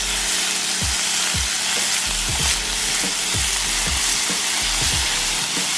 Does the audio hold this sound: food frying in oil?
yes